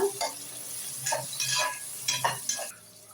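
Tomato sautéing with onions in a pan for goat trotter paya: several rhythmic spatula scrapes and stirs over a low sizzle, close by, fading quieter toward the end.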